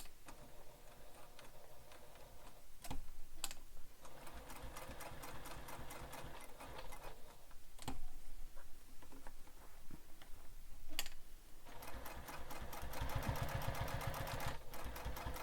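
A close sewing machine stitches steadily through bag fabric with added foam, a continuous rapid ticking rhythm with brief pauses and clicks, louder toward the end.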